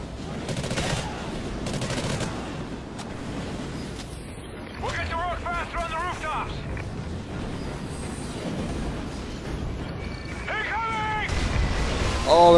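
Enemy gunfire in the video game Call of Duty: Ghosts, with bursts of shots over a dense battle soundscape and people talking throughout.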